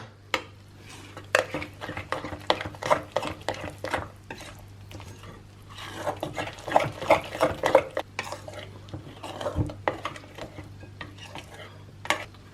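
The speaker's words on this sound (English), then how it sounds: "we'll give everything a final mix through till we have our banana bread batter" Almond flour banana bread batter is stirred in a bowl, with repeated scraping, clinking strokes of a spoon or spatula in uneven bursts, close and fairly clear over a faint steady hum.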